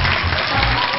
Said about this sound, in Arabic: تشجيع تشجيع